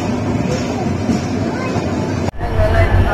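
Chilahati Express train running toward Dhaka, a steady broadband rumble and rattle of the moving carriages throughout, broken by a brief dropout before the dense running noise resumes.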